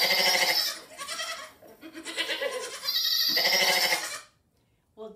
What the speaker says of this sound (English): did you guess goat?